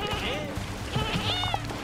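Sheep bleat in the video game Lumberhill, a few wavering calls over busy game noise while players talk excitedly throughout.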